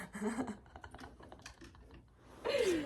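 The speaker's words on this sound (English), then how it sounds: "Look, that's my typewriter. This is what I write on." Keys of a typewriter clack in quick, irregular bursts at close range, with a louder mechanical rasp near the end.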